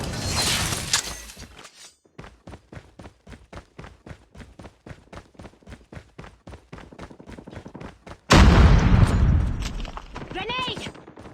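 In Call of Duty Mobile multiplayer, a run of rhythmic gunfire or footsteps gives way to a sudden loud grenade blast with a heavy rumbling tail, and in-game voice callouts are heard.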